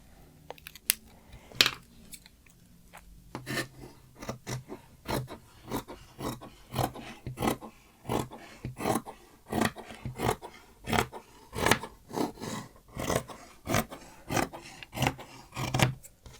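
Scissors cutting striped cardigan fabric, a run of regular crisp snips, about two per second, close and clear after a few scattered cuts at the start, with no talking.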